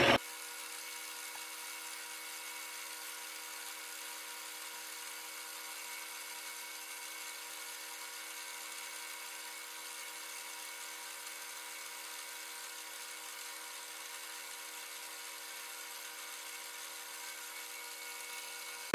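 A metal lathe cuts a chamfer on the sides of a BXA tool holder, giving a steady, even high-pitched whine that holds unchanged and close throughout, with no talking over it.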